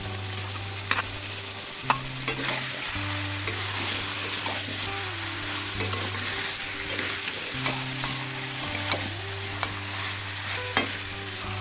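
Marinated goat meat frying with chui jhal and garlic, a steady sizzle with repeated stirring scrapes and clanks of a spoon against the pan, close and continuous.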